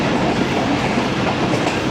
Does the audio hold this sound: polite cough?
no